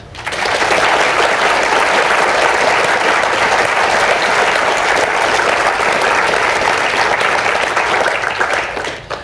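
Warm applause from a book festival audience in Edinburgh greets guests Bryan and Mary Talbot, a dense, even clapping that starts abruptly, holds steady for several seconds, then tapers off near the close.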